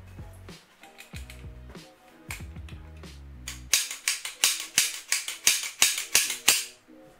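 An airsoft gun is reassembled and racked, giving close mechanical clicks and slides followed by a regular series of loud, sharp metallic clacks of the action cycling, with no talking.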